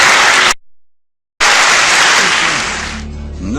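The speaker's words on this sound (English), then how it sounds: "A round of applause." Clapping from an audience at a mathematics competition, a loud burst that breaks off into a brief silence, then resumes and fades, with faint murmurs near the end.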